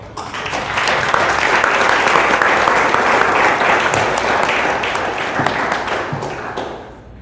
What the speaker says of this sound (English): Can we give this lady a round of applause?